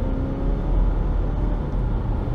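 Volvo XC60 engine accelerating after a downshift, heard as a loud, steady low engine drone from inside the car with no talking.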